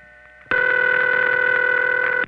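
An old telephone on a Franklin 4 exchange rings with one loud, steady electric ring. It starts sharply after a quiet half second, holds for about two seconds with no talking, then cuts off.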